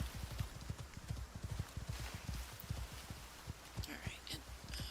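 Horse hooves clip-clop steadily in a video game, a fast rhythmic run of low thuds that carries on throughout, with faint background noise and a few brief higher sounds near the end.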